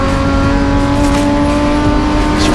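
BMW M race car in a BMW M Performance Parts race series, running at speed down a hill, a loud steady engine drone with sustained tonal whine, close and alone.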